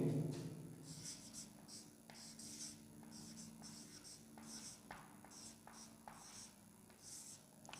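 Numbers are written on a board in a quiet room: faint, repeated short scratchy strokes in quick bursts, with a soft hum in the background and no clear talk.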